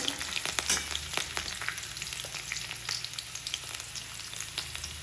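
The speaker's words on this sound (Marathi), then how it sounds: "आणि थोडीशी हिरवी मिरच पण घालते आणि शेंगदाणे मी चांगलं परतून घेते" Peanuts and green chili frying in a pan give off a continuous close sizzle and crackle, broken by frequent light pops, with no voices.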